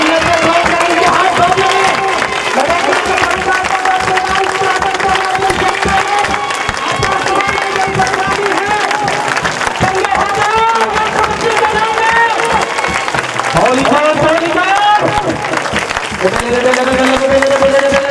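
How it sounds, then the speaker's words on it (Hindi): A congregation at a Sunday church service claps along in a steady, dense wash, with singing, music and voices running throughout the whole stretch. "अपने हाथों को ऊपर उठाओ और ताली बजाकर करते हैं।"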